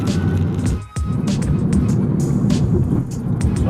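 A Honda Jazz 1.5 car moves slowly through city traffic at about 40 kph, with a steady low engine and road rumble and brief swells from nearby passing vehicles.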